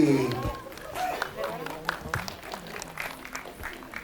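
Audience applause at the film premiere of Bangku Kosong Ujian Terakhir, a soft, scattered patter of clapping from a crowd that mixes with general hall noise and voices across the whole stretch.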